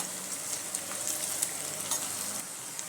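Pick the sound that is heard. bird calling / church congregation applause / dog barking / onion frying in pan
onion frying in pan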